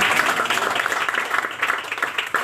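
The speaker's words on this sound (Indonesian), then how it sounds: "Beri tepuk tangan bagi kemuliaan Tuhan." Church audience clapping in praise after a testimony, a moderately loud burst of many hands that gradually thins and softens toward the end.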